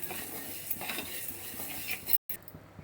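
Coriander seeds, cumin, a little rice, cinnamon, cloves and two cardamom pods dry-roasting in a pan for mutton liver fry, with steady close scraping and stirring clatter against the metal and a faint sizzle, no talk.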